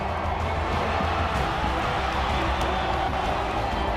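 A sellout stadium crowd roars steadily at a Florida State Seminoles college football game in Tallahassee against Oklahoma, a dense, continuous wash of cheering with no break or fade.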